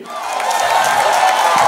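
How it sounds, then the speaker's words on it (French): A crowd at a praise and thanksgiving festival cheers and acclaims loudly, a dense sustained roar of voices with scattered whoops and clapping, close and unbroken. "On fait l'acclamation."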